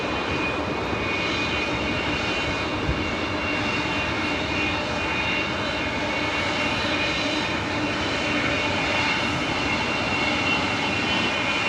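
An Eva Air airliner arriving from Taipei touches down at LAX with a steady, loud, broad engine roar and a high whine that hold evenly for the whole span, with no talk.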